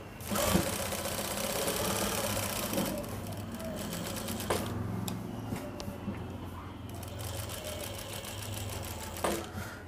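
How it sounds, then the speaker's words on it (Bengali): A sewing machine stitches a round pocket on a Punjabi garment, its needle running in quick mechanical bursts with brief stops and clicks between runs, heard close and fairly quiet. "এবার আমি সেলাই করে দিচ্ছি"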